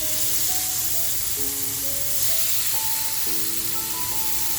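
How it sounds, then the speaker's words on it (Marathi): Masala-coated fish frying on a hot tawa makes a loud, even sizzle and hiss throughout. Background music with steady sustained tones plays over it. "आता ही मच्छी मी फ्राय करायला घेते"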